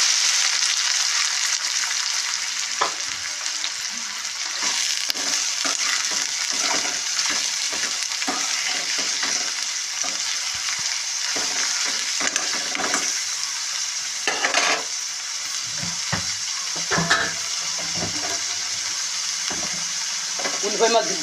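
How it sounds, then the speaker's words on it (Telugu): Chopped onions and green chillies frying in hot oil for a bitter gourd curry, a steady sizzle with scattered spatula scrapes and stirring clatter throughout. "మీడియం సైజు ఉల్లిపాయలు 5 కట్ చేసి వేస్తున్నాను."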